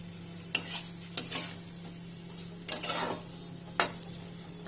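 Fried duck eggs go into a thick spiced tomato masala and are stirred, giving a low soft sizzle marked by a few sharp clinks of a spoon against the pan. The sound is close, quiet and wordless.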